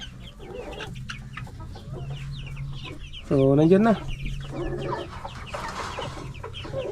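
Grown Dekalb White chickens, just moved out of the brooder, cluck steadily nearby, one bird letting out a louder drawn-out call midway, while someone speaks briefly and faintly.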